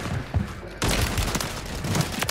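A Striker submachine gun in Call of Duty Warzone, a sparse shot or two, then from under a second in a dense, rapid, loud stream of automatic fire that carries on to the end, with no voices.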